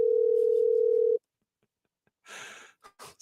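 A steady, loud telephone dial tone while calling a senator, holding for about a second before cutting out, followed by faint breathing and rustling.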